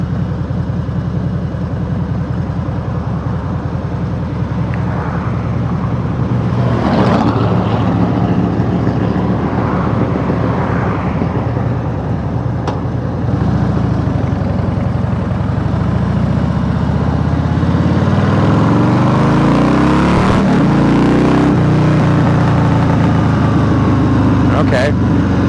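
A carbureted Harley-Davidson motorcycle with a CV carb runs and idles roughly, a steady low engine rumble throughout with occasional revving swells, while a person talks over it.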